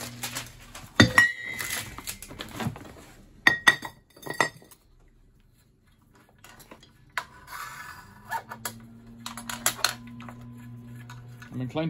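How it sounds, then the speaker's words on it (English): Screwdriver tapping against metal nitrous oxide flasks during scrapping, with sharp clinks and knocks in bursts separated by pauses, and a voice talking in places. "Check them all with the screwdriver, I mean."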